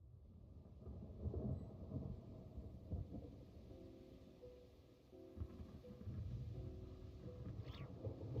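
Deep rolling thunder in a video game rumbles in heavy waves over a steady wash of rain, loud and close, with a few sharper cracks and no voices.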